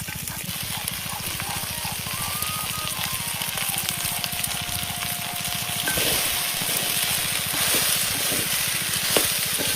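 Okra frying in a clay pot over a village cooking fire gives a steady, close sizzle and crackle that runs the whole way through, with faint stirring and background hum beneath.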